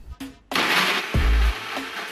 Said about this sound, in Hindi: फिर मैंने इसे ग्राइंड करके इस तरह से जूस निकाला